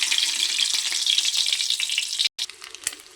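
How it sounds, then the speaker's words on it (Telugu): Peeled boiled eggs fry in oil in a kadai: loud, continuous crackling sizzle close by, cut off by a brief silence before quieter spitting resumes, with no talk. "తర్వాత ఆయిల్లోకి ఎగ్ని అయితే వదిలేద్దాం"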